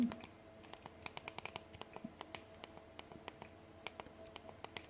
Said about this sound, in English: I type in my Boom Media